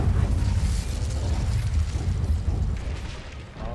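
A loud, roaring fire-spell blast from Incendio in Hogwarts Legacy, a dense sustained rumble with crackling bursts that holds for several seconds before easing slightly near the end.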